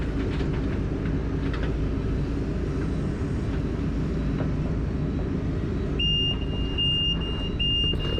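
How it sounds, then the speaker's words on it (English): A heavy machine engine rumbles loudly while pulling pipe out of the ground, and near the end a high-pitched backup alarm starts beeping in a steady repeating pattern. "why is that backup alarm so damn loud?"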